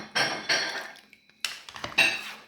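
A ladle clinks against a pot and bowl while serving nilagang baka, a Filipino beef soup, in a home kitchen: several sharp metallic knocks and scrapes in two clusters, close and clear with no talking.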